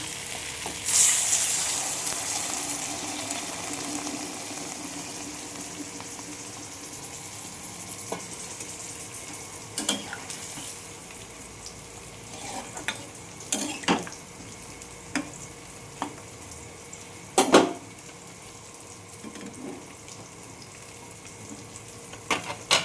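Water poured into a pan of fried-down masala, giving a steady, close sizzling hiss with scattered sharp crackles and pops throughout.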